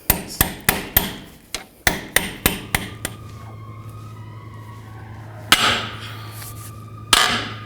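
A hammer taps a socket on rusty brake caliper bolts of a 2000-06 GMC Yukon, about a dozen sharp metallic strikes in a quick irregular rhythm, then a pause with a faint ringing hum and two further louder bangs.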